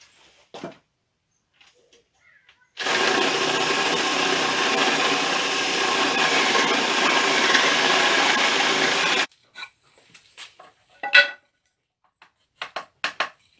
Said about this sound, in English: I'm going to drill a hole in the ends of the bench so these can slip into them nicely